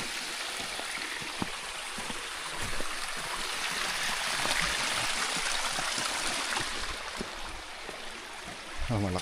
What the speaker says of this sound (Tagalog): Malakas talaga yung agos ng tubig dito.